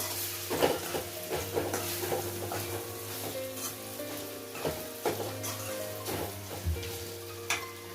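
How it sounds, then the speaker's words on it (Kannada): Mango pieces stirred into a spiced instant mango pickle mixture in a pan, giving a steady oily sizzle with repeated soft scraping strokes and light clinks of the spoon, close and without talk. "ಈಗ ಮಿಕ್ಸ್ ಮಾಡೋದ."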